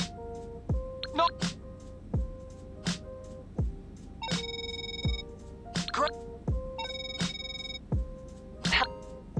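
Incoming phone calls in GTA Online ring over and over as a repeating electronic ringtone. Bursts of tones and short melodic phrases sound in a steady pattern, with a voice heard among them.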